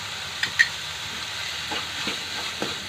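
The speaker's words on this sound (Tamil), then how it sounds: "வெங்காயம் நல்லா வதங்கிடுச்சு." Chopped onions sautéing in a hot pan for aloo paratha, a soft steady sizzle with a few faint stirring scrapes, no talking.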